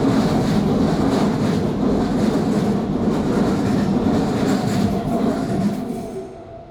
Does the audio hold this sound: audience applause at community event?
no